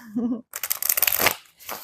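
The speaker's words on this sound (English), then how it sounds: "I'm shuffling up the cards." A deck of tarot cards being shuffled up close: a brief voice, then a burst of crisp riffling and flicking card noise, with a short pause before more shuffling.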